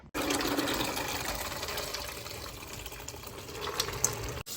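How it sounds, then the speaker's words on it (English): Soaked dried beans being rinsed under a running kitchen sink tap, a steady close rush of water with no talking. "So I'm gonna get these rinsed off and drained out in the sink."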